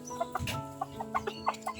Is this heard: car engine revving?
no